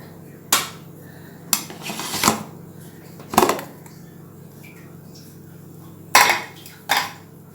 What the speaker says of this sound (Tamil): நான் அதை மிக்ஸ் பண்ணி உங்களுக்கு காட்டுறேன்